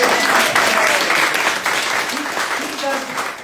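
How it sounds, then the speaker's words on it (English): An audience at a Florida House book club event breaks into steady applause honoring a trustee, the clapping dense and continuous, with voices talking over it. "And let's give Mary a round of applause."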